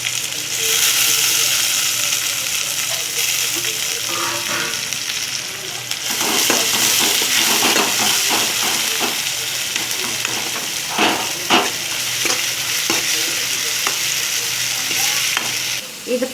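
Onion and tomato fry in a mustard-seed and curry-leaf tempering, a continuous loud sizzle with spoon stirring and scraping clicks against the pan, growing busier halfway through, no voices.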